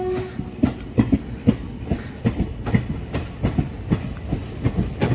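A train rolls past on the rails, its wheels producing a loud repeating clickety-clack of rhythmic thumps over rail joints, close and continuous.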